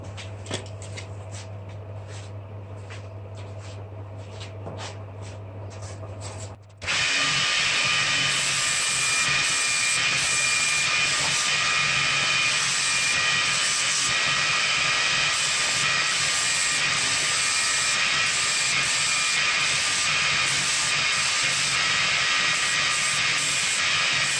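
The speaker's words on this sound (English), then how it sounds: "now I'm going to clean up the edges on that piece of steel" A pulley-driven belt grinder cleans up the edges of a steel piece for a medieval kettle helm, with a low motor hum giving way to a loud, steady, continuous rasping hiss of belt on steel that runs on without a break.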